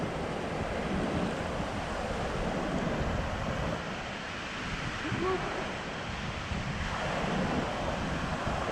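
Ocean surf and wind on a beach make a loud, continuous roar with broad rushing waves and buffeting wind noise on the microphone, no distinct voices standing out.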